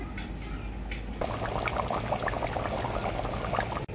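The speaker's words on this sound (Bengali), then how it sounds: "এরপরে আমি ঝোলটা খুব ভালো করে ফুটিয়ে নেব।" Chicken curry gravy comes to a boil in a pot, a brief bubbling, burbling churn that swells after a short pour-like hiss at the start.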